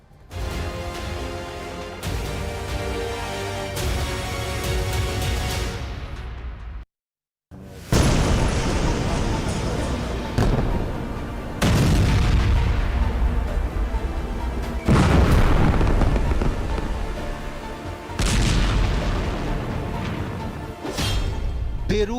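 A string of loud, heavy explosions in southern Beirut during the Israel–Lebanon war, each blast with a long rumbling tail, arriving one after another with a brief moment of silence partway through.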